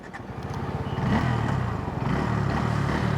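A Bajaj Pulsar N160 single-cylinder motorcycle engine starts up with a quick crank. It catches, then settles into a steady, close idle thrum with light mechanical clatter.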